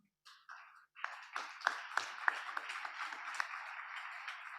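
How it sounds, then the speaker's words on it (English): An audience at a Long Island MacArthur Airport tourism event breaks into applause, starting with a few scattered claps and swelling into steady, fairly faint clapping from a roomful of people. "Thanks for starting that clap, by the way."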